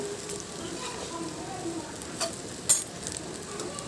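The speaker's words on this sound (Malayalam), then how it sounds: "നമ്മൾ മുറുക്കി വെച്ചിട്ടുള്ള ഗോതമ്പിൻ്റെ ഉണ്ട് അതിലേക്ക് ഇട്ടിട്ട് നന്നായിട്ട് ഉണക്കി യോജിപ്പിച്ചെടുക്കുക" Wheat dough balls made from ration-shop atta being stir-fried in a pan, a steady low sizzle with soft scraping stirs and one brief louder clink near the end.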